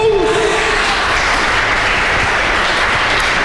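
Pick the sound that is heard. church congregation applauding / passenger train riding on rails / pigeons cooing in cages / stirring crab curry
church congregation applauding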